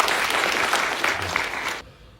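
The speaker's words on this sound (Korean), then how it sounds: "박수 치시고 싶을 때 막 치셔도 됩니다." An audience at a lecture breaks into sustained applause, a dense even wash of many hands clapping that stops abruptly near the end, leaving quiet room tone.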